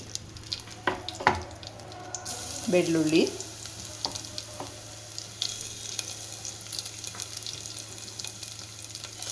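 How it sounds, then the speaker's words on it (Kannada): Dried red chillies dropped into hot oil with mustard seeds and cumin sizzle at moderate volume in a pan for a Kannada home-style tempering, a steady crackle with brief pops. A voice briefly speaks over it. "ಈಗ ಒಗ್ಗರಣೆ ಹಾಕ್ಕೊಳ್ಳೋಣ ಈಗ ಒಣಮೆಣಸಿನ್ಕಾಯಿ ಹಾಕ್ಕೊತಾ ಇದ್ದೀನಿ"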